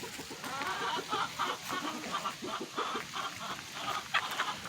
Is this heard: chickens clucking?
yes